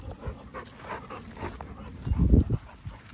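A dog jumping up close on a person pants and gives a few soft whimpers, with scuffling and a louder burst of movement near the end; no one speaks.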